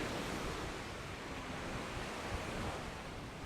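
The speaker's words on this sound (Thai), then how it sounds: "อันนี้คือหาดพลา หาดพลาบ้านฉางนะคะ ลมลื่นมาก" Surf and wind at Hat Phla beach in Ban Chang, a steady, dense wash of breaking waves and gusting air that holds even and unbroken throughout, with no voices.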